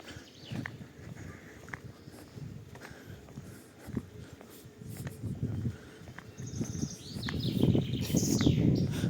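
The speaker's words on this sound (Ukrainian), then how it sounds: "Гарно пташки співають, дуже гарно." Birds chirp and sing outdoors in the town centre of Truskavets, with scattered calls over a busy background of footsteps and general ambient noise that grows louder.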